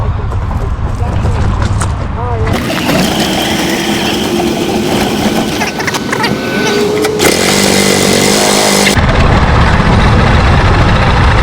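A go-kart engine starts up and runs, a loud, raspy, buzzing small engine close by that holds steady with shifts in pitch, while people talk over it.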